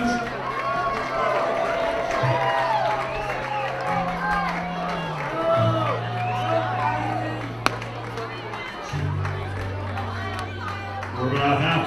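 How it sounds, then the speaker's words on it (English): A baseball game crowd of fans cheers and chatters during a between-innings contest, a steady hubbub of voices and shouts under loud announcer talk, with brief claps and a sharp knock partway through. "Cheer on, fans!"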